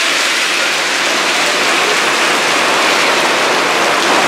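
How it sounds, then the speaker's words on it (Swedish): Heavy rain pours down in a steady, loud hiss, drops drumming on surfaces without letup. "Det regnar."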